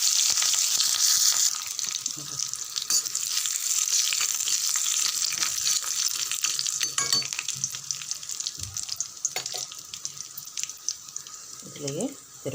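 Spices, dal and curry leaves sizzle loudly in about three spoons of hot oil for tempering mint chutney, a steady bright crackle throughout with scattered pops and a brief stir near the end.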